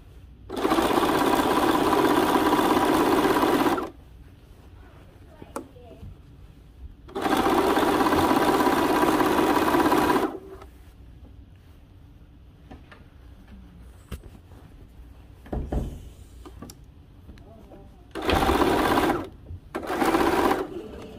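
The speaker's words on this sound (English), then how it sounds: "I'm going to take it to my machine and I'm going to stitch and stretch the midriff to fit as I stitch" A sewing machine stitching and stretching the midriff seam of a dress, in several loud, rapid whirring bursts of a few seconds each separated by quiet pauses with small handling sounds.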